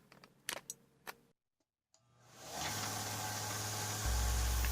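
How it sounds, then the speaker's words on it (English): Belt sander starting up to grind a Damascus camping knife blade on a slack 80 grit belt: a few tool clicks, a pause, then a motor whirring up into a steady loud abrasive hum. "I'm going to use the belt sander to get rid of that"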